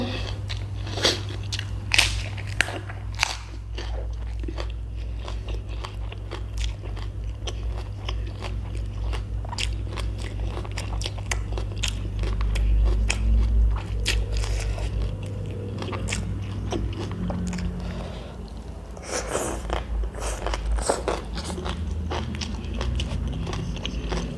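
Close-up crunching and chewing of spicy food eaten with fried silkworm pupae, irregular crisp bites and mouth sounds over a steady low hum, continuing loud and near throughout.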